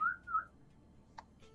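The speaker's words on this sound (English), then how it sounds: "What if you like whistle at her?" A person whistles at a pet bearded dragon, giving two short, clear gliding notes close by, then quiet apart from a brief faint click and a last soft tone.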